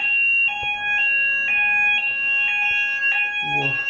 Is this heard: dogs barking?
no